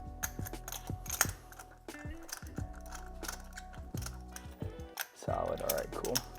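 A handheld power tool tightens a spark plug on a 2021–2025 Audi A5, giving short, light ratcheting bursts and clicks in a garage, with someone talking in between.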